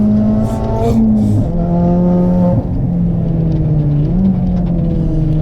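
A Ford Fiesta drives on the Castle Combe race circuit, its engine droning steadily from inside the car with gear-shift drops in pitch and a continuous rumble.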